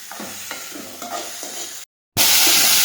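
Grated ginger sautéed in a pan for a kachori filling: soft scraping and stirring with a low sizzle, a brief silence, then a loud, steady burst of hissing frying.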